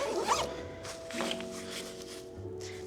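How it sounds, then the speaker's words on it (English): A zipper being pulled open on a compartment of an Away carry-on suitcase, several quick rasping zips in short bursts, close and clear. "let's unzip this"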